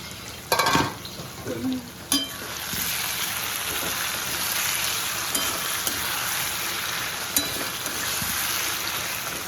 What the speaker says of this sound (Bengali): এই যে পেঁয়াজ খুব সুন্দরভাবে ভাজা হয়ে যাচ্ছে